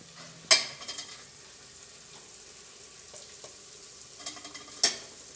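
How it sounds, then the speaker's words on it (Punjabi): Spice masala fries in oil with vegetables for a curry, a low steady sizzle punctuated by two sharp scraping clanks of a spoon against the pot and a few softer stirring taps, nearby with no talking. "ਸਬਜ਼ੀ ਦੇ ਨਾਲ ਆਪਣਾ ਮਸਾਲਾ ਭੁੱਜ ਕੇ ਤਿਆਰ ਹੋ ਚੁੱਕਿਆ ਜੀ"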